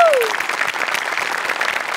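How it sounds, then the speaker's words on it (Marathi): A studio audience at a Marathi comedy show bursts into loud, sustained applause, dense clapping that starts as a short tone fades and continues steadily throughout. "मोठ्यांसाठी एकदा जोरदार टाळ्या."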